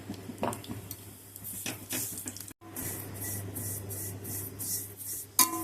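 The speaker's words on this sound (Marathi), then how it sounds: "आता याच्यामध्ये आपण शेवळ्या छान परतून घेऊया" Sheval being stirred and sautéed in a pan for kheer, with scraping and clinking of a spoon against metal, intermittent sizzling, a short gap midway and a sharp clink near the end, no talking.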